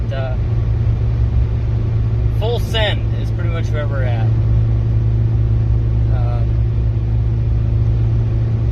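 A Ford Crown Victoria fitted with a 460 V8 cruises along in a steady low rumbling drone from inside the car, while a person talks briefly over the engine noise.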